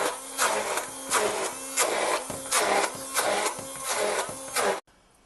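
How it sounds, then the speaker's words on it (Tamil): A mixer grinder blends onion into batter in loud, repeated pulses, about eight short whirring bursts with brief dips between, before switching off abruptly. "இப்போ வெங்காயம் போட்டு நல்லா அரைச்சிக்கலாம்"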